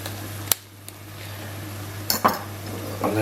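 Thyme and herbs stirred into a pot for a cottage pie, with a few sharp metallic clinks of a utensil against the pot between quieter stirring, close up, over a steady low hum and no talking.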